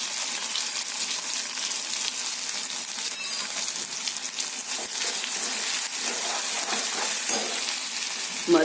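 Garlic and green chili sizzle in hot oil in a pan for a Kathiyawadi potato curry, a steady bright crackle that flares as a splash of water hits the pan, with faint clinks of a stirring spoon.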